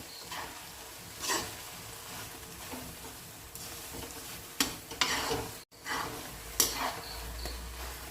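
Jaggery melts in a pan while a spoon stirs it, giving soft scraping strokes and a faint, steady sizzle, close and quiet, with a few sharper clinks along the way.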